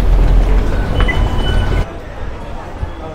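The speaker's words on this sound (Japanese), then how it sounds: "列車でですね、スワンナプーム空港に到着です。" A train pulls into Suvarnabhumi Airport in Bangkok with a loud, close, rumbling roar that stops abruptly partway through, leaving a quieter background hum.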